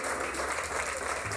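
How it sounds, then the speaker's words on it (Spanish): A church congregation applauds loudly and continuously in a dense wash of clapping, with no pause through the short burst. "Ese aplauso debería ser fuerte para el Señor."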